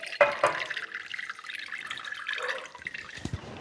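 Water poured out of a plant's cover pot after watering, splashing and trickling with a few sharp drips early on, then a softer running flow and small knocks near the end.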